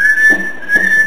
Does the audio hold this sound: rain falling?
no